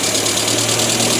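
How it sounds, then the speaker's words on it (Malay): A Nissan C22 Vanette engine runs steadily at close range with a loud tappet fault, producing a dense, continuous mechanical idle with no pauses and no talking. "Dengar apa yang saya dengar dekat sini adalah bunyi tepet dia kuat."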